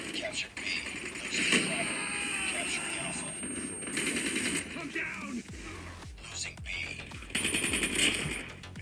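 Call of Duty Mobile gameplay with a KN-44 rifle firing in rapid automatic bursts, dense clattering gunfire and game effects throughout, with a player's voice talking over it.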